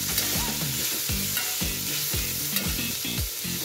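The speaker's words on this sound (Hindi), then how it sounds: "इन तीनों चीजों को ऐड करके हमने इसको फ्राई करना।" Vegetable toast mix of crushed carrot and mashed potato frying in a pan, with a steady close sizzle and repeated stirring scrapes in an uneven rhythm, no voices.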